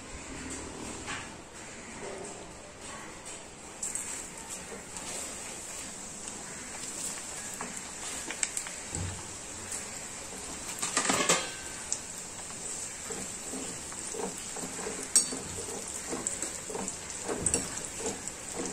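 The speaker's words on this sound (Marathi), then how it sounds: "अगदी 1 मिनिटाच्या आत तळून होतो हा कांदा" Sun-dried onion slices for chicken dum biryani fry fast in hot oil with a soft, continuous crackling hiss, broken by a few utensil clinks and scrapes that build toward the end.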